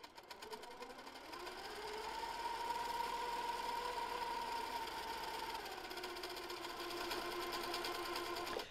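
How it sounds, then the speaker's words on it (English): A home sewing machine free-motion micro quilts a flower quilt block at slowed speed, giving a soft, continuous whirring drone with a faint rhythmic needle patter for about nine seconds, alone and fairly quiet. "I slowed the machine down when I'm doing this really small micro quilting"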